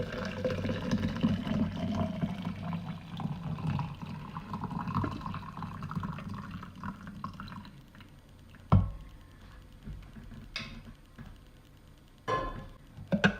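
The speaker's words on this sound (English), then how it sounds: "I have 4 cups of water in here, so I'm going to go ahead and pour it in." Four cups of hot water pour steadily into a French press coffee maker for several seconds with a bubbling, trickling sound, then stop, followed by a few sharp clinks and knocks.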